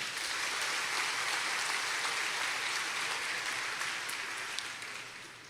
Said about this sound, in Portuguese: Você pode dar um aplauso por isso, irmão?